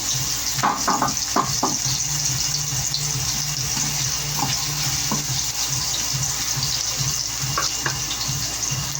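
Chicken pieces browning in a frying pan for ginataang manok, a steady broadband sizzle running throughout with occasional sharper crackles and stirring knocks, close and fairly loud.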